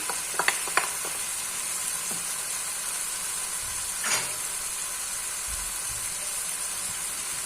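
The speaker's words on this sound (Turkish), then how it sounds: "Şöyle güzelce her karıştırıyorum." Minced meat frying with tomatoes in a pan, a soft steady sizzle and hiss under a few sharp scraping clinks of the spoon as the mixture is stirred.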